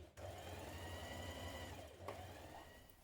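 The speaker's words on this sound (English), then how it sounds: "just stitch down the front of both of your panels" A sewing machine runs steadily, stitching down the front of dress panels for a wrap dress, with a continuous motor hum and a brief pause near the start, close and fairly quiet.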